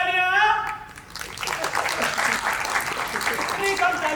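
A theatre audience breaks into applause after a brief spoken line, the dense clapping swelling and holding steady for several seconds.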